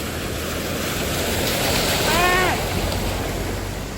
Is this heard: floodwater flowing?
yes